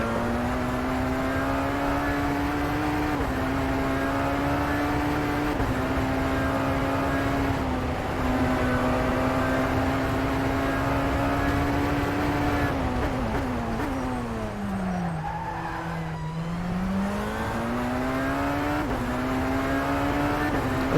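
A Tatuus race car in the rFactor 2 sim drones at high revs, with stepped gear changes and a brief dip and rise in pitch as it slows and accelerates again.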